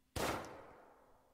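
A single sharp gunshot from the video game WILL: A Wonderful World cracks loudly and alone, then trails off in a long fading echo.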